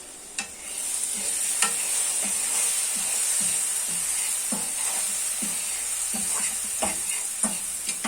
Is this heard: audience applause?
no